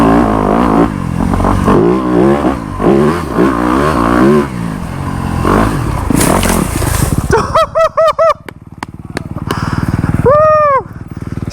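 Enduro motorcycle engine revving up and down in repeated bursts, then sharp blips and rising whines from the bike up close.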